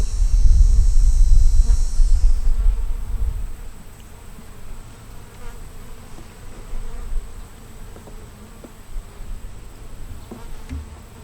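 Honeybees swarm an empty frame during a small hive split, making a steady close buzz that is loudest in the first few seconds amid handling noise, then settles into a softer drone.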